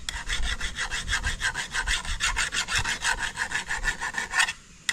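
A metal file rasps back and forth across a blade being sharpened on a farm, rapid regular strokes, close and loud, stopping briefly near the end.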